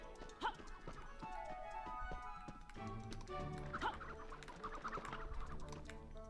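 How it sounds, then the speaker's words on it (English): Chickens cluck in the video game Petz Horsez 2, with soft clip-clop of horse hooves and faint farmyard ambience beneath; the sounds stay fairly quiet and continuous, without any talk. "stupid chickens. Get the freaking hell into the chicken coop."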